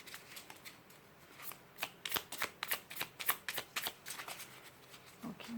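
Tarot cards being shuffled by hand, a quick run of crisp riffling slaps and papery flutters, close and fairly quiet, with no talking.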